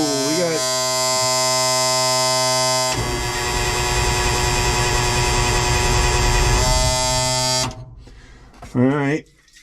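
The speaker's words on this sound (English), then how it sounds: "let's see if we can even push a button and see if it'll crank over" An M35A2 military truck engine cranks over on its starter with a loud, steady grinding whir under an electrical buzz. It cuts off abruptly, and voices talk briefly afterward.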